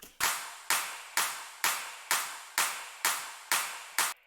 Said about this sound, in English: these claps,